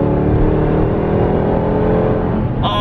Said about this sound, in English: Oh, the supercharger whine.